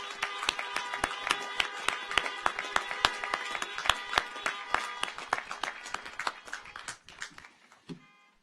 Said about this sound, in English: Please join me in a round of applause thanking them for their significant contributions